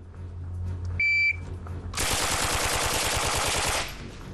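A sharp electronic timer beep, then a loud sustained burst of automatic fire from a Sterling MK4 or MP7A1 submachine gun at a rapid-fire shooting competition, roughly two seconds of dense, rattling shots that stop abruptly.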